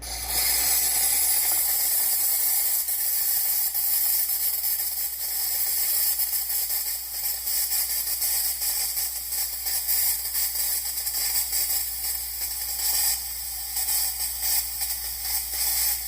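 A DeLonghi ECP3630 espresso machine vents steam from its wand in a steady, loud, broadband hiss with a faint rattling texture, running unbroken for about sixteen seconds with no talking.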